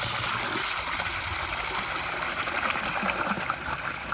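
Water pours steadily from a shower fountain, a close, continuous rushing and splashing hiss that holds at an even level throughout, with no voices.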